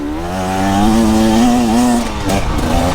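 A KTM EXC 300 two-stroke dirt bike engine revving while ridden, close and loud, its pitch climbing and falling through throttle changes with a raspy buzzing tone and no talking.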